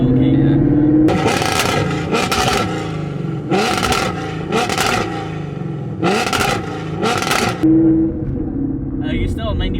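A 700 HP Procharged Mustang GT with long tube headers, an X pipe and a muffler delete barks through several loud, rhythmic revving bursts between a low idle rumble, close and dominant.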